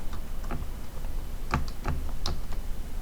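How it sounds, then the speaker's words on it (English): Fingers tap out a few scattered keystrokes on a keyboard, close and fairly clear, in short irregular bursts with no talking. "I will have to type it."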